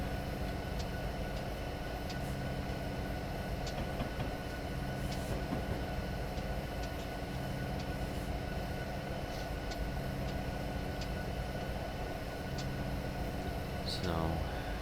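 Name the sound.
train running on rails, from Train Simulator video game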